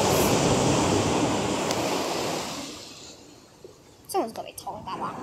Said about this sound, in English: lots of water coming in right now